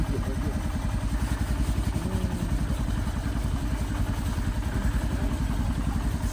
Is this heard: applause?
no